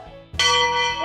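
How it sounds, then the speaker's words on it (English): A loud bell on an old fire engine clangs out suddenly and rings on with a bright, sustained metallic tone, close and dominant. "that's a really loud bell"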